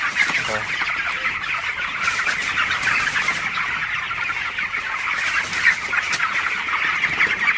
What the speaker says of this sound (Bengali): আপনারা দেখতে পাচ্ছেন আসলে আমার ব্রয়লার মুরগিগুলো মাশাআল্লাহ কতটা ভালো আছে আসলে